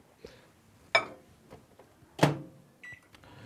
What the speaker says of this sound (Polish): Trzeba ją przez minutę podgrzać w mikrofali.